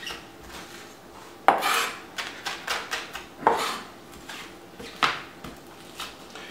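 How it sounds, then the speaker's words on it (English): Kosher salt and garlic crushed under a knife blade on a cutting board, heard as irregular scraping and sharp taps of steel against the board, close and moderately quiet. "I'll crush the salt into the garlic."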